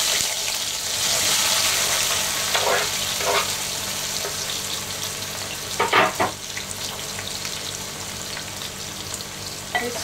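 Thinly sliced onions and curry leaves fry over medium flame with a steady, loud sizzle, broken by a few brief stirring scrapes partway through.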